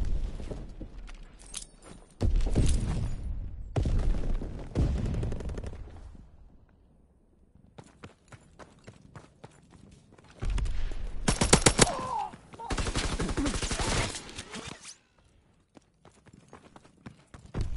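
Rapid automatic fire from an M2 Carbine in a first-person shooter game comes in several loud, crackling bursts separated by quieter stretches of game noise.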